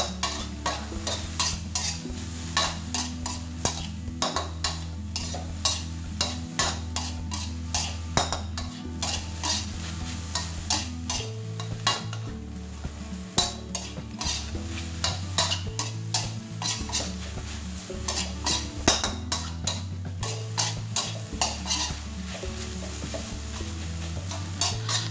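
Bamboo shoots stir-fried with egg in a pan, a long run of rapid, rhythmic scraping and clattering of a spatula against the pan over a low, steady sizzle.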